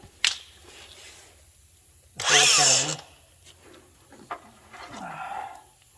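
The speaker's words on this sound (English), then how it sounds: "So I'm just going to grind this other one off too." A power grinder bites into a stuck bolt on a Chevy, a loud harsh burst of roughly a second in the middle, with quieter scraping and tool handling before and after.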